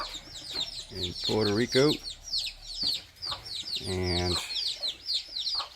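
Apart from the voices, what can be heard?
chickens and roosters clucking in Puerto Rico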